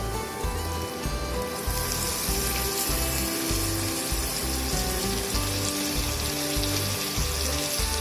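Water poured into coriander, red chili and turmeric powder in a pan over a low flame keeps up a steady bubbling sizzle with a rhythmic low pulsing throughout, and no one speaks.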